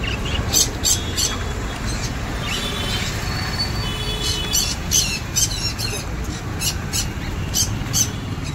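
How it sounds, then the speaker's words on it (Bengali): Pet birds in a bird shop keep up rapid, shrill chirps and squawks, dense and overlapping throughout over a busy, noisy background. "খুব সুন্দর সুন্দর পাখি আছে এখানে"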